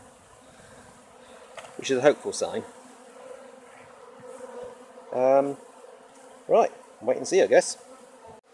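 A honeybee swarm crowds into the entrance of a Warre hive, giving a steady low buzzing drone throughout while a person speaks intermittently over it.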